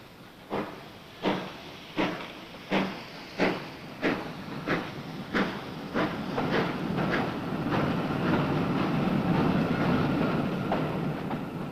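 A 1953 steam train pulls away on the rails with about ten loud, evenly spaced exhaust chuffs that quicken, then merge into a continuous rushing roar as it runs.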